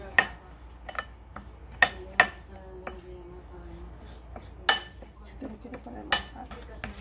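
Homemade seasoning ingredients are stirred together in a container, making sparse light clinks and taps of a utensil against the vessel that are close and fairly quiet, with a few sharper knocks.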